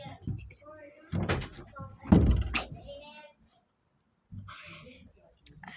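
A household door being held shut from one side while pushed from the other, with knocks and thuds between bursts of lively talking and shouting, then a brief silence before voices return.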